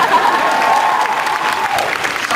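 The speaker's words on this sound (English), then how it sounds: "applause for the anti-superstition" An audience at a fan convention panel claps in a short, dense burst of applause with some crowd noise, steady and loud for a couple of seconds.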